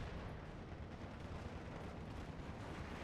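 Battle noise from the Steel Division 2 strategy game as an M8 flamethrower and a grenade hit, a dense, continuous roar of fire and blasts heard at low level throughout, with no talking.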